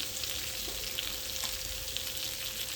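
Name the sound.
fish frying in pan, second side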